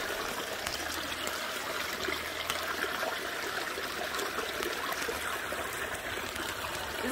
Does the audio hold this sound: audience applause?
no